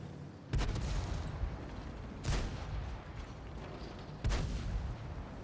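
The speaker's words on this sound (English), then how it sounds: "your tank makes a different sound depending on what surface you're driving over" World of Tanks tank tracks drone on in a steady, muffled rumble over grass while three heavy booms go off at intervals.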